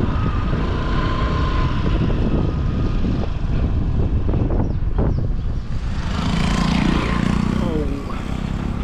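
A taxi driving along a potholed, increasingly off-road street in India, engine drone and rattling jolts filling the cabin steadily, with a voice heard faintly underneath.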